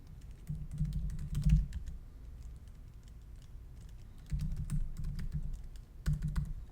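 Typing on a computer keyboard while entering registration details online, soft clustered key clicks coming in bursts with short pauses between them, close by and fairly quiet, with no talking.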